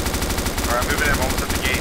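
Rapid, loud automatic gunfire crackles nonstop in the DayZ Origins video game, dense bursts of close shots overlapping with faint voice chatter.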